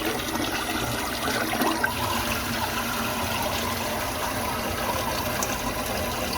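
Tap water pours steadily over produce being rinsed, a close, continuous rushing stream that holds an even level throughout, with no voices.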